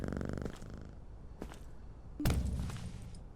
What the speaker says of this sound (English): Oh, look at the little cat!